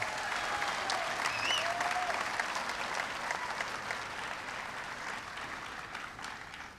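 Applause from a high school graduation audience fills the hall, steady dense clapping that slowly tapers, with a few faint whistles mixed in.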